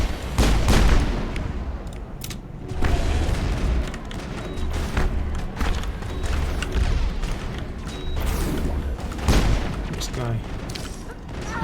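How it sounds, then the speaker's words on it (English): Sniper fire and battle noise in the Mass Effect game on the planet Therum: repeated booming shots and bursts crack over a busy combat din, with a player's voice talking through it. "Watch out, Ashley, you're being sniped"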